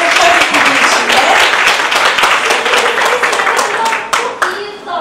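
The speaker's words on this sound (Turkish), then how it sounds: "büyük bir alkış istiyorum. Alkışlarla mutfak ekibi için de." A hospital nutrition event audience gives loud, sustained applause for the kitchen team, a dense wash of many hands clapping steadily close by, with a few sharper individual claps near the end.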